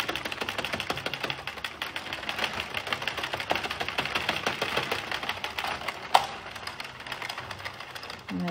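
An Addi knitting machine is cranked to release a knitted hat, giving a steady, rapid mechanical clatter of ticking needles, close and continuous, with one sharp click near the end.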